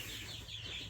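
Chickens cluck softly nearby in a brief burst, a steady low murmur of fowl sounds with no talking.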